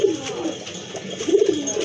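Pigeons of a prized breed, a pair kept for sale, coo in soft repeated throaty phrases, close and steady, with no talk over them.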